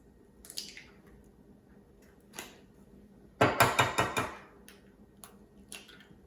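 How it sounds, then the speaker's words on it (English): Two eggs are cracked into a bowl of white cake mix for ube crinkle cookies: a few sharp taps on the bowl rim, then a quick flurry of close, crisp cracks and clicks, in a quiet kitchen. "And then you want to crack your 2 eggs."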